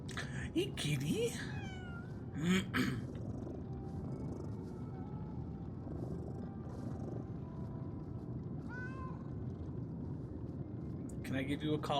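Cat meows in Lies of P, a few short mewing calls near the start and again around the middle and end, heard over a steady game ambience hum while a person talks.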